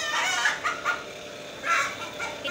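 Hens on a farm cluck in several short bursts, close and clear, with no talking over them.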